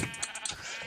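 Sheep bleating in the Minecraft video game, a few short, clear game-sound bleats in quick succession, close and fairly loud with no talk over them.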